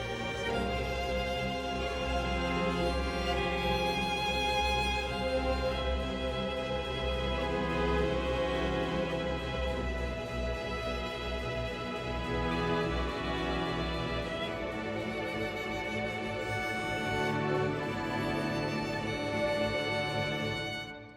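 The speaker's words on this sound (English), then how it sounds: "there you can hear the brass in the background, a little bit of percussion to give you that steady kind of beat pulse in the back" Tense orchestral strings playing off-color chords, with brass in the background and light percussion keeping a steady beat pulse, a dense, continuous, loud texture throughout.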